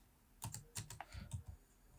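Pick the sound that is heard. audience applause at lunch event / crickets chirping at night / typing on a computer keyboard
typing on a computer keyboard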